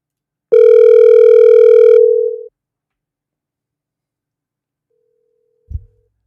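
A single loud telephone dial tone holds steady for about two seconds and then cuts off, followed by silence and a brief low click.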